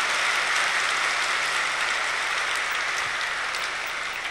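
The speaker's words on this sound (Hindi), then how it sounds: "जोर से ताली" A large seated audience at a spiritual gathering claps loudly and steadily, a dense unbroken wash of applause that lasts the whole stretch.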